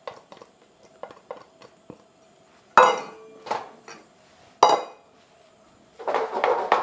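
Eggs being stirred in a pan of foaming butter: irregular close clinks and scrapes of a utensil against the pan, a few louder knocks and a burst of sizzling scraping toward the end.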